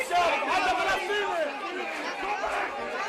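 Overlapping chatter from a crowd of press and onlookers at a high-profile arrival, a continuous busy babble of many voices at moderate loudness with a few louder calls rising above it.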